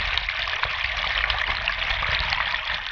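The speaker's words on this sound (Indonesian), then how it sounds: "Sedudo, sebuah air terjun memiliki ketinggian 105 meter yang dikelilingi pesona alam yang sangat indah." Sedudo waterfall, 105 metres high, roars as a steady, dense rush of falling water, loud and continuous with no pauses.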